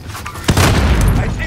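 A grenade detonates in the shooter game Call of Duty Warzone, a loud sudden boom followed by a sustained rumbling roar of debris, with game voices heard faintly around it.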